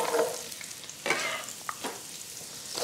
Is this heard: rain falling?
no